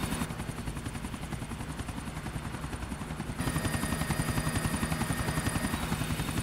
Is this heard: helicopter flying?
yes